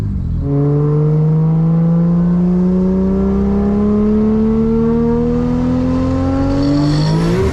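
An 800hp Nissan 240SX with a 2JZ engine swap accelerates hard from close by, its engine note climbing steadily through a long pull before a shift near the end.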